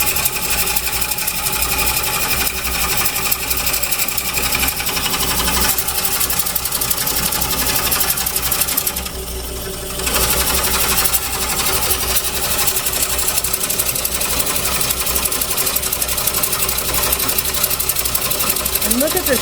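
A Core Pro cutter coring a large walnut blank on a lathe makes a continuous, loud, rough whirring and grinding, with a slight juddering bounce and a brief dip partway through.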